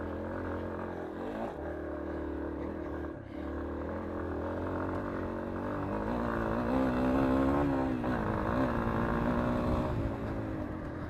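A Yamaha XT250 dirt bike engine drones steadily with shifting revs, rising and falling as the bike is ridden, loud and continuous throughout.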